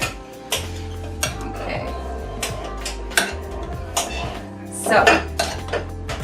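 Gluten-free apple bread stuffing is tossed in a pan with a utensil, sending out repeated sharp clinks and scrapes against the metal over a low background hum, with a few brief spoken words.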